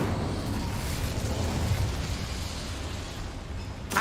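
Incendio fire spell cast in Hogwarts Legacy, a sustained roaring burst of flame, loud and close, rumbling steadily for a few seconds with a sharp pop at the end.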